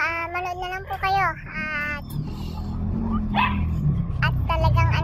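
A pet dog whines in a drawn-out, wavering way, then gives a few nearby barks and yips over a constant low background rumble.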